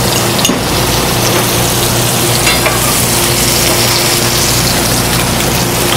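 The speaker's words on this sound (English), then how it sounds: "And as that melts, we're just going to baste the scallops and caramelize the other side." Butter melts and sizzles loudly in a pan with seared scallops, a dense continuous frying hiss and occasional stirring clinks, with no talking.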